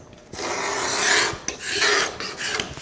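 Dried glue being scraped off a wooden cabinet piece by hand: two or three close, raspy strokes, each a harsh scratching rub followed by a brief pause.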